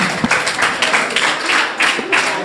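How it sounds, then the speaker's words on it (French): An audience at the ASH 30th anniversary brunch applauds, the clapping swelling in a steady series of waves that fill the room for a couple of seconds. "On le remercie, on applaudit aussi."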